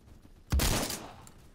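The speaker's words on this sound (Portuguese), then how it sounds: "é muito tiro, mano" A sudden burst of rapid gunfire in the Roblox shooter Phantom Forces, a loud close volley lasting about half a second before trailing off, with no talk.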